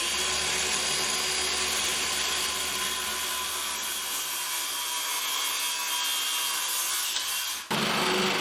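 A saw cuts through a panel during a kitchen renovation, giving a loud, steady, rasping whine. It runs continuously for about seven and a half seconds, then stops abruptly.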